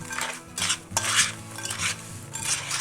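Almonds stirred with sugar in a pot for candied street-fair almonds, giving bursts of scraping and rattling with a clatter of utensil against metal, close and moderately loud over a faint steady hum.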